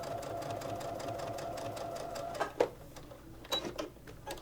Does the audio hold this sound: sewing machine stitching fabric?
yes